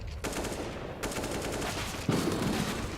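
Bursts of gunfire from a Counter-Strike match form a dense, continuous crackle of rapid shots, with a fresh loud volley near the end.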